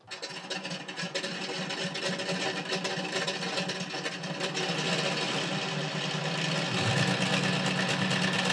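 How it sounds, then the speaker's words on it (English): ESS-AIR engine sound system fitted to an RC model gives a steady synthetic engine drone that rises in loudness as the throttle comes up, with no talking. "as I raise my throttle, let me put my fingers on top of these, you'll hear the engine noise start."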